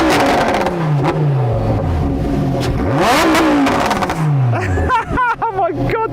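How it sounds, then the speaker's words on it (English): A Lamborghini Huracan engine with no soft limiter revs hard and loud, pitch sweeping up and down in repeated climbs before sharp crackling blips, with people talking over it. "Lamborghini doesn't put a soft limiter on its engines."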